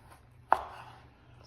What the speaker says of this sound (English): we're gonna cut the potatoes in cubes, just so they can cook a little faster